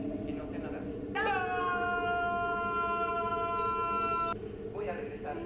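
A dog howls in a live theatre play: a single sustained, slightly falling howl lasting about three seconds, heard over a steady background murmur.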